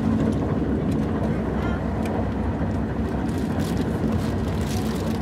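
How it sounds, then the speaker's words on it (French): Riding inside a moving train: a constant low rumble and rolling hum fills the whole stretch, steady and close, with a person talking over it. "je suis dans le train avec mon père"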